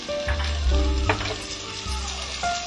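Spring onion sizzles and fries in hot oil in a pan as it is stirred, a steady close crackle with occasional soft scraping.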